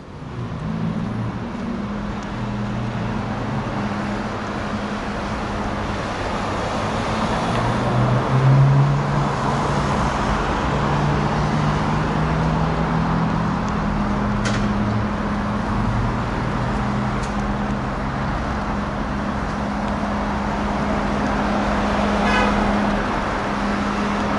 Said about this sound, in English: nice cars arriving to Yorkville.